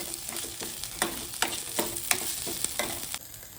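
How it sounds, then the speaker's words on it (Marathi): Kerala-style fish fries in a pan with leftover masala paste: a close, loud sizzle broken by a run of rhythmic stirring scrapes, then an abrupt quieter pause at the end. "थोडी पेस्ट उरली होती ती पण घालून सोडूया. आणि परत चांगलं भाजून घ्यायचं."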